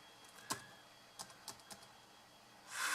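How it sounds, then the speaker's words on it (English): A few separate keystrokes on a computer keyboard in a quiet room, spaced clicks at irregular intervals, followed by a brief louder rustle at the end. "place the caret again in the system log, and now we start to type."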